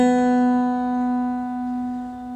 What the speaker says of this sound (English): Adjust your B until it sounds like this B.